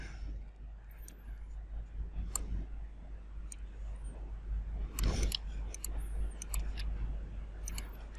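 Mouse clicks while connecting blocks in circuit simulation software, a few sharp, faint ticks scattered over a low steady hum.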